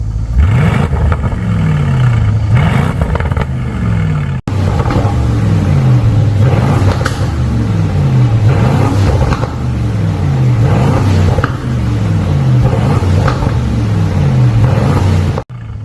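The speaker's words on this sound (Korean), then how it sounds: "가변 열고 바로 소리 한번 들어보겠습니다. 악셀 쳐줘!" Loud, throaty engine revving from an Aston Martin DBX exhaust with its valves open, rising and falling in repeated blips with a deep rumble, close by and continuous.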